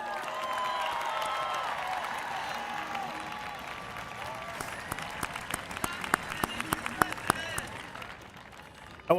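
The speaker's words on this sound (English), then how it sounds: "Give yourselves a round of applause." Graduating class at a 2016 Shawnee Mission East high school commencement ceremony breaks into a sustained round of applause, a dense wash of clapping with scattered louder individual claps and some cheering as it tapers off near the end.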